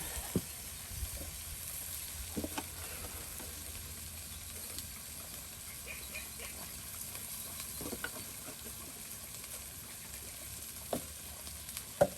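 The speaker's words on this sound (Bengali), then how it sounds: "হ্যাঁ, বাটা মশলা, গুঁড়া মশলা সব একসাথে এই যে আপনার পেঁয়াজের সাথে রসুনের সাথে এই যে কষানো হচ্ছে" Ground and paste spices fry together with onion and garlic in a rural kitchen pot for a fish curry with papaya, a faint steady sizzle broken by occasional sharp clinks and scrapes of stirring.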